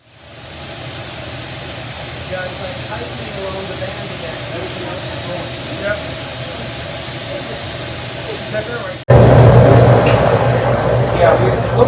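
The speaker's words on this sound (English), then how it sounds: "Let's go for the air hose." Compressed air hose blowing a loud, steady, close hiss for about nine seconds, then cut off abruptly by a different noisy background.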